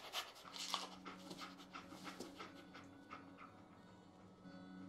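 Dogmeat, the dog companion in Fallout 4, pants in quick, steady breaths close by, with a faint background hum and no speech.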